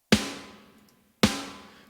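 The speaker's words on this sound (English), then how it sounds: "So I've gone for a piccolo snare in Ultimate Heavy Drums" Piccolo snare drum sample from the Ultimate Heavy Drums library, struck twice: two crisp, cracking hits about a second apart, each with a bright ring that decays slowly, in isolation.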